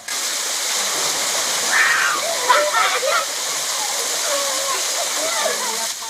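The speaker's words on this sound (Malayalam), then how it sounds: "വനത്തിനുള്ളിൽ നിന്ന് ഉത്ഭവിച്ച് പാറക്കെട്ടുകളിലൂടെ ഒലിച്ചിറങ്ങുന്ന അരുവിയിലെ സ്നാനം തീർത്ഥാടകർക്ക് ഏറെ പ്രിയപ്പെട്ടത്" A forest stream runs down over rocks on the pilgrim route to Sabarimala, giving a steady broadband rush of falling water; close, with faint voices briefly over the flow.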